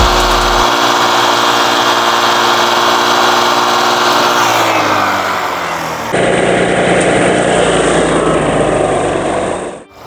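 Honda Vario 150 scooter engine idling while stationary, with water passages in the block clogged: a loud, close, steady mechanical drone whose pitch dips partway through before it settles into a rougher, even hum, with no talking.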